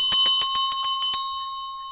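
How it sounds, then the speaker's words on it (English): A big fire engine bell on a cartoon fire engine rings out in about eight quick, evenly spaced strokes, loud and bright, then fades to silence. "a big bell to ring"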